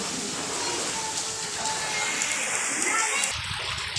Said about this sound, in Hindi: सुबह 6 बजे से ये बारिश जारी है और इधर आपको पानी नज़र आ रहा है।